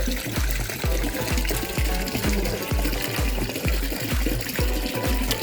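Spring water pours steadily from a bamboo spout at a Buddhist temple in Busan, a loud, close, continuous gushing splash with no other sound over it.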